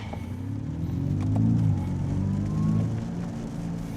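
A 2025 Kia EV6 GT electric car plays a simulated engine note on a downshift, a low synthetic rumble that swells with a brief rev blip and then settles, steady and close inside the cabin.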